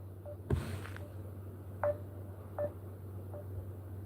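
A few faint, separate telephone keypad tones beep, spaced out over a quiet background hum.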